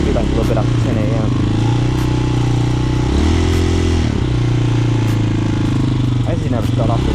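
A Hawk 250cc motorcycle engine runs on full choke, a loud close chugging idle with uneven pulses and brief rises in revs, and someone talks over it at times.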